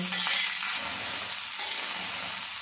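Green peas are dry-roasted in a pan without oil and stirred, making a close, dry hiss and light rattling shuffle as they move against the metal.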